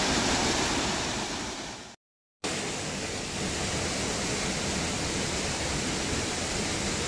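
A village waterfall in Punjab gives a loud, constant broadband roar of falling water, close and unbroken apart from a brief cut to silence early on, with no voices.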